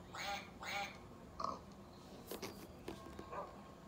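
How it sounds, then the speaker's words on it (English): A farm duck quacks a few times in short, nasal bursts, fairly close and moderately loud against a noisy outdoor background, with no talking. "This is a duck."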